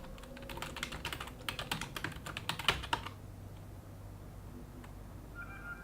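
Quick bursts of typing on a computer keyboard during an Anarchy Online chat session, clattering rapidly and close for about three seconds before stopping, leaving a quiet room hum with no talk.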